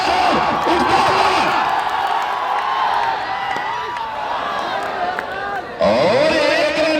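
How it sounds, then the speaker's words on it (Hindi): Cricket spectators at a tournament semifinal clap and cheer in a steady crowd roar that runs beneath continuous commentary, swelling louder near the end. "दर्शकों से चाहूंगा तालियों के बीच शोर उठता हुआ"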